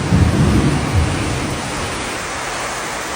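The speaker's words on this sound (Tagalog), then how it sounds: "lakas na ng ulan, hindi pa ako nakaka-uwi" Heavy rain pours in a steady roar with a deep rumble of thunder at the start that fades into the continuous downpour.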